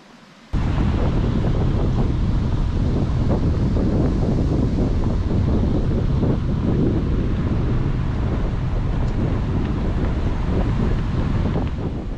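Steady broadband rushing of a waterfall at Doi Inthanon, loud and continuous from start to finish, with heavy wind buffeting on the microphone and no voices.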